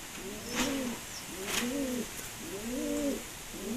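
Pigeons kept for sale coo repeatedly in a rhythmic series of soft, low, warbling calls, four bursts at steady intervals, fairly close, with faint higher chirps and background noise between them.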